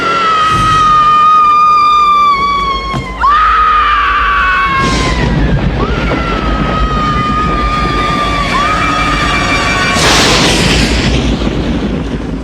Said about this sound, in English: probably one of the greatest screams in horror history right there